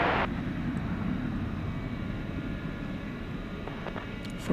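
An aircraft on flight 9600 from Dublin at Dallas/Fort Worth Airport gives a steady, moderate jet engine rumble heard at some distance, fading slightly over the clip, with no talking.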